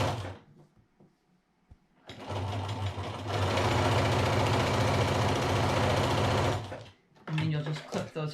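A sewing machine stitches half-square triangle quilt squares in one steady, close run of a few seconds. Quiet handling noises come before it, and a short clatter follows once it stops.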